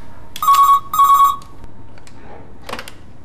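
A telephone rings twice in quick succession, loud and close, each burst a bright electronic trill, followed by quiet room tone and a brief soft knock.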